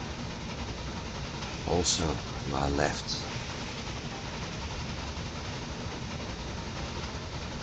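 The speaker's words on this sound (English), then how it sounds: "Look at that big cargo train" A big cargo train rolls through Spain in the railway game Railway Empire 2, a steady low mechanical drone running throughout beneath a voice.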